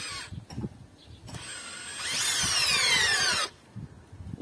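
A Makita DDF485 brushless drill driver in high gear drives a lag screw across the grain of wood, with short bursts of motor whine, then a loud rising strain lasting over a second before it cuts out.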